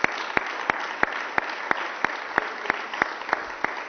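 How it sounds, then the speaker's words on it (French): A church congregation claps together to thank a man for his leadership, with steady, fairly quick applause and a few louder claps standing out at a regular beat, moderately loud and without talk. "J'aimerais que nous puissions le remercier tous ensemble par des acclamations"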